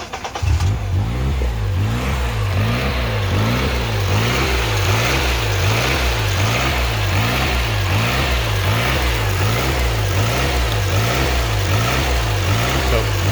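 A 6.5 turbo diesel idles with its EGR valve disconnected, running a steady, rhythmically pulsing hunting idle that rises and falls at a regular beat, loud and close throughout.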